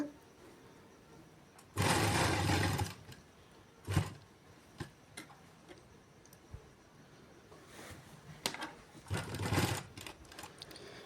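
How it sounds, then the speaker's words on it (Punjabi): A sewing machine stitches a shirt collar in two sustained runs with short clattering bursts between them, close and fairly loud, with no talking during the stitching. "ਸਾਰੀ ਸਿਉਂ ਲਾ ਲੈਣੀ ਆਪਾਂ ਜਮਾ ਸਿਰੇ ਤੱਕ"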